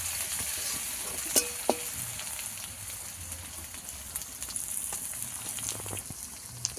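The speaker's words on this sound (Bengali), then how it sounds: "রসুনটা ভাজা ভাজা হয়ে গেলে আদা দিয়ে দেবো।" Garlic and ginger frying in a pan give a soft, continuous sizzle with a few sharp crackles and clinks of a utensil stirring, fairly faint and with no talk.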